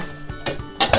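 The metal lid of a Swedish Army mess kit closes with several close clinks and knocks, ending in two brighter metallic clacks.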